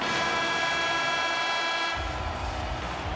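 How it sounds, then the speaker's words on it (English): Arena horn in the NHL 22 hockey video game, a loud, sustained, tonal blare holding steadily throughout with dense crowd-like noise beneath, no talk. "And the horn sounds to stop the bleeding, at least for a few minutes anyway."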